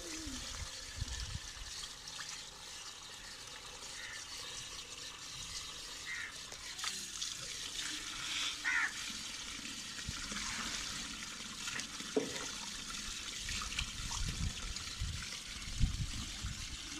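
Garlic is rinsed under clean running tap water, a close, uneven splashing trickle with handling knocks and sloshes, and nobody speaks.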